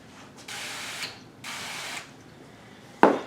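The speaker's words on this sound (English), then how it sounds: "now I'm going to spray the waffle maker with coconut oil" Two short hissing bursts from a coconut oil spray can onto a waffle maker, each about half a second, close by, followed by a sharp click or clack.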